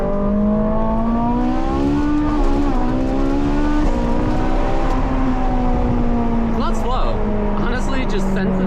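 A Ferrari 458 engine climbs under throttle, its loud, close mechanical tone rising and falling through shifts, with a voice talking over it throughout.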